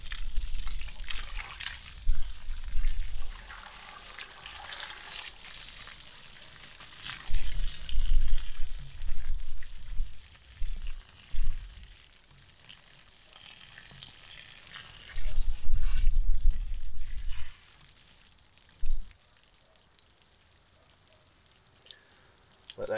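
Water draining out of a caravan hot water system, an intermittent gushing and splashing flow that surges in several bursts, then falls quiet toward the end.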